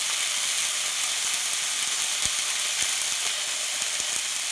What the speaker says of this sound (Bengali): এইবার ছেড়ে দেবো ঢেঁকি শাকটা আমি নাড়চাড় করে নিলাম